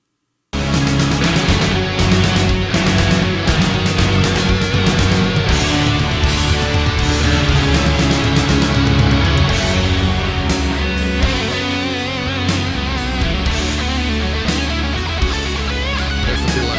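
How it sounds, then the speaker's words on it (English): A guitar solo with delay effect plays over a full band mix in a budget home-recording setup, loud and continuous, with sustained notes and echoing repeats, no talking. "There's the delay on the solo."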